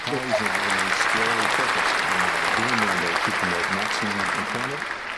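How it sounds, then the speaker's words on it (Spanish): Steady applause runs throughout, with a voice speaking over it the whole time. "Un aplauso para él."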